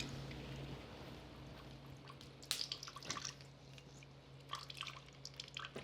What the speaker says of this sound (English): I'm gonna squeeze here the juice of a lemon and the juice of a lime.